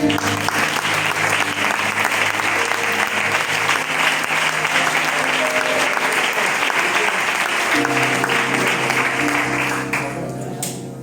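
A church congregation applauds loudly for about ten seconds, a dense steady wash of clapping that thins out and fades at the end.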